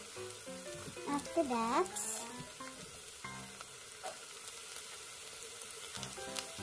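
Onions and garlic frying in a pan for spaghetti bolognese give a steady, soft sizzle that runs throughout, with a voice speaking briefly over it near the start.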